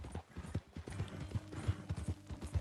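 Horse hooves clip-clopping at a steady walking rhythm in the Western video game Red Dead Redemption 2, close and fairly loud, repeating evenly throughout with no talk over them.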